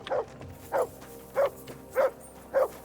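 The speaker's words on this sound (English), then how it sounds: "Good dog, Mutt." A dog barks in the medieval video game Kingdom Come: Deliverance II, five single woofs in an even rhythm about half a second apart, moderately loud over a quiet game background, with no talk.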